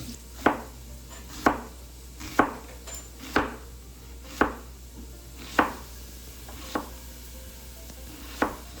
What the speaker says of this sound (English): Sometimes I like to just sit here and watch her chop things